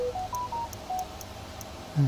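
A phone keypad sends a quick run of clear, close dialing tones, each beep short and distinct, followed by a brief low thump at the end.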